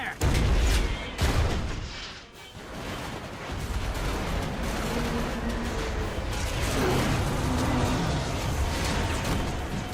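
Machina weapons in Final Fantasy X firing, heavy booming blasts and cannon-like shots that are loud at first, followed by a steady rumbling barrage with a faint voice beneath.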